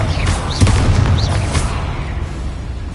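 Confringo blasting spell going off in the Hogwarts Legacy video game: a booming burst with rumbling low body, loud and close, fading into a lingering low roar.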